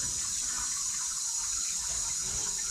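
Water from a gravity-fed supply runs steadily into a livestock trough on a rural French farm, a continuous close hiss and splash without pause.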